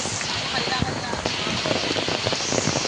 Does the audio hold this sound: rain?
yes